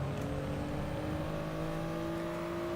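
A race car engine in the GT Sport racing game holds a steady, close droning whine with a slight rising pitch and no voices.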